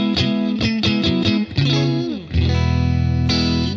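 Overdriven electric guitar through a Dream '65 amp simulator pedal plays a quick run of chopped chords, then a bend and a long ringing chord, loud and bright with a touch of reverb.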